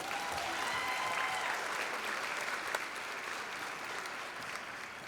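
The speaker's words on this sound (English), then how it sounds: "Give yourself a round of applause." A high school graduation audience gives steady, dense applause for the class of 2023, a broad wash of clapping sustained for about five seconds with no voices over it.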